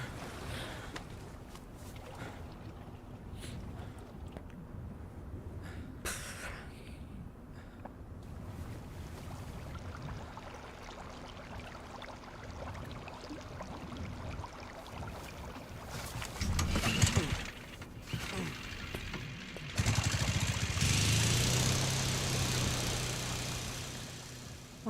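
A boat engine in the video game Resident Evil 4 Remake hums low and steady under wind and water noise, then grows louder and rougher toward the end.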